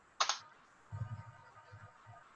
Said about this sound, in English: I did just type it wrong a couple times